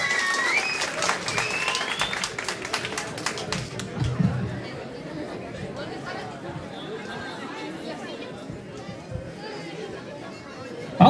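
Applause and cheering for Vanessa and the boys at a live show, loud at first with dense clapping, then thinning into crowd chatter and murmur that runs to the end.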